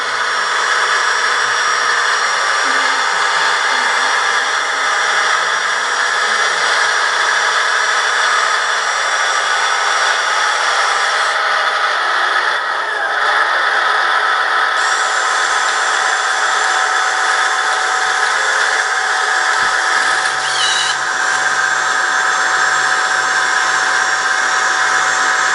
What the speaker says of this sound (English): So it actually idles up the engine when you dump the bed.